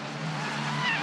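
Italian F4 race car locking its tyres under heavy braking at Imola, a steady engine drone with a rising squealing tone near the end, sounding close and loud.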